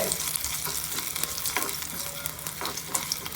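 White urad dal frying in hot oil for idli chutney, a bright, close crackling sizzle with a steady stir, no speech.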